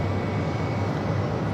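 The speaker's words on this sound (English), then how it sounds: "321 coming in from Las Vegas." An Airbus A321 arriving from Las Vegas at Phoenix Sky Harbor roars with a steady broadband engine rush, loud and close, throughout the moment.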